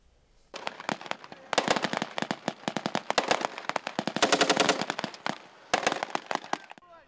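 Gunfire in a paratrooper training exercise near Astana, rapid bursts of automatic weapon shots and single cracks in dense irregular volleys, loud and close, briefly pausing between clusters.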